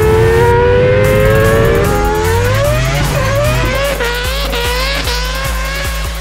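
A Mazda RX-7 rotary engine screams up through the revs, its high buzzing whine climbing and then dropping with each quick gearshift in a loud, close run with no talk.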